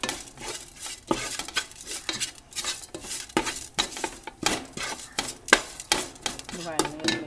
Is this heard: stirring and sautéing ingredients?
yes